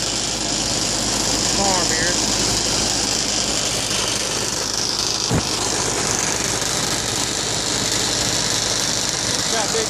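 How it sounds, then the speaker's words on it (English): A tractor engine runs throughout a farm ride in Lake Lure, North Carolina. Its steady, loud rumble continues under people talking, with one brief thump partway through. "This is our tractor ride on the farm."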